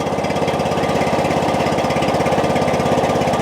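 A Snapper riding tractor engine runs steadily as it warms up, a loud, close, even rattling chug with no break and no talk.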